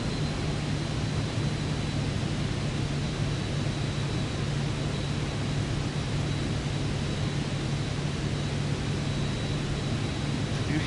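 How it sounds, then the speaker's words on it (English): Steady roar of wind and engine noise inside a small plane in flight at night, a constant broadband rush with a low drone and no pauses. "Did you hear that wind on the plane?"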